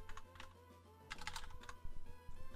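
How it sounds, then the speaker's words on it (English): Typing on a computer keyboard while entering values into a search filter, a quiet, close string of irregular key clicks with short pauses between bursts. "what we can do is type the IVs into the filter section here"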